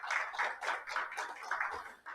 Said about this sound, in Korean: 여러분 큰 박수로 맞아주시죠.